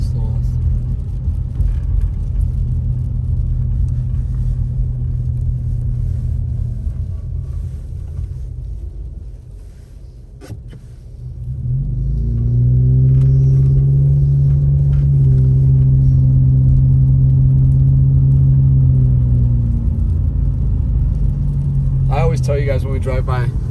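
A car rolls through snowy Big Bear Lake with a steady low engine rumble inside the cabin, dipping briefly and then swelling into a louder droning pass, while people talk over it.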